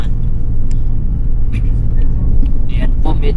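A car drives along a snowy road in Greenland, its steady low engine and road rumble filling the cabin while a voice speaks intermittently over it.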